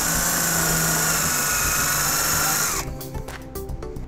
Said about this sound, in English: using a 1/4-inch socket, we'll put our self-tapping screw into place